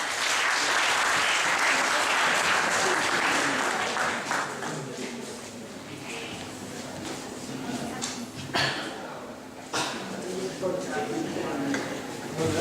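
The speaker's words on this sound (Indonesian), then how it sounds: "beri tepuk tangan yang meriah pada Pak Abdul Hamid Al-Imam." Lively audience applause, loud at first and then tapering into scattered clapping with a murmur of voices and a few sharp claps later on.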